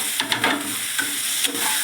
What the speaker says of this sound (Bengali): আলুটা দিয়ে আমি একটু ভালো করে কষে নেব